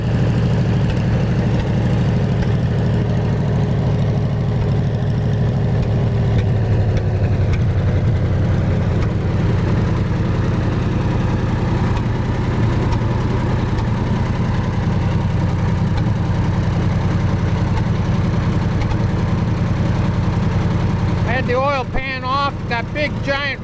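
A 1947 Lincoln pipeliner welder's Wisconsin VF4 engine, its cylinders pickled with oil, idles with a steady low rumble throughout. A voice speaks over the engine near the end.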